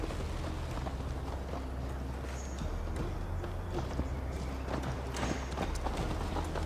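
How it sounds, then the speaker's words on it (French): Horse hooves in the video game Assassin's Creed Valhalla clip-clop in a steady fast gallop rhythm over a low, constant rumble, fairly close and continuous throughout. "À cheval, Eivor."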